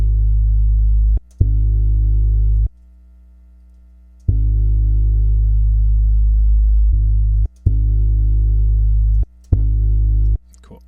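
Steady tone run through an LA-2A style compressor plugin in Ableton, rich in harmonics, switching on and off in repeated blocks of varying length with brief gaps and clicks between.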